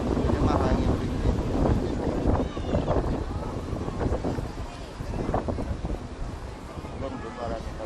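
Strong wind gusts buffet the microphone on a busy beach, a continuous loud rumble and roar, with voices faintly mixed in.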